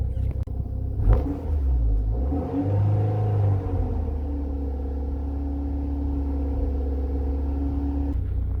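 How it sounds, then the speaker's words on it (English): MG car engine revved up to about 2000 RPM and held there, a steady droning rumble that climbs after a brief blip then settles into a constant hum, close and alone. "just rev it to 2000 RPM and it should go up"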